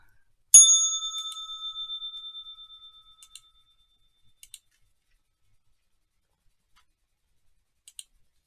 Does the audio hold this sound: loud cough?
no